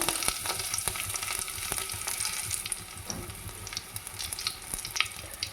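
Curry leaves and garlic sizzle and crackle steadily in hot oil, a continuous close frying hiss with occasional stirring clinks, no voices.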